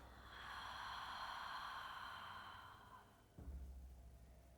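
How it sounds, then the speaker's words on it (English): A long, breathy exhale through the mouth during a yoga breathing practice, steady and soft for about three seconds before a quieter breath follows. "Exhale through the mouth."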